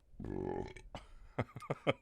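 A single long, low, rumbling burp up close, followed by brief clicks and mouth noises.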